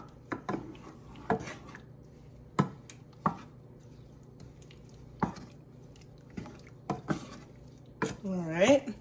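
Apple turnover filling stirred in a pot on a stovetop over medium heat: intermittent sharp scrapes and knocks of a utensil against the pot, spaced a second or so apart, with a wetter, busier burst of stirring near the end.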